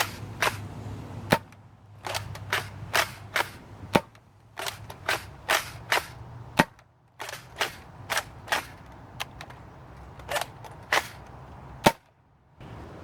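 A homemade Kronos shotgun fires two shells at a time in a long run of sharp, cracking shots spaced about half a second to a second apart, with quiet gaps between them.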